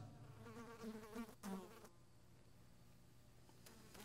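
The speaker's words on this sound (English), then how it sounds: "I'd rather listen to the flies buzz." Flies buzz close by in a steady, droning hum, louder and busier through the first two seconds before settling into a fainter, continuous whine.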